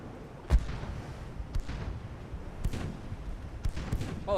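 Single booming gunshots ring out in a World at War video game, four distinct distant-sounding reports spaced about a second apart over a low rumbling battlefield ambience.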